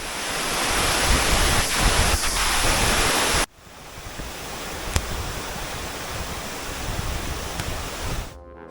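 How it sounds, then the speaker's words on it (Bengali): Porikundu waterfall at Madhabkundu, Moulvibazar, pours with a loud, dense roar that cuts abruptly partway through to a quieter but continuous rush of falling water. "সব বাধা পেরিয়ে আমরা পৌঁছে যাই পরিকুণ্ড ঝর্ণায়।"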